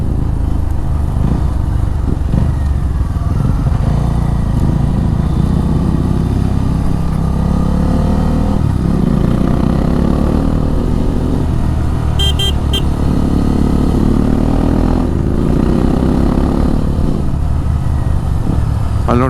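A motorcycle climbs a hill road near Karighatta, its engine droning steadily and loud close up with wind rush, swelling and easing as it pulls uphill, with a brief horn-like tone midway.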